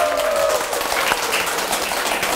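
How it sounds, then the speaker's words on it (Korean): An audience claps steadily through the opening of a community welfare centre in Pohang, a dense, sustained round of applause with a faint voice briefly audible in the mix. "박수 한번"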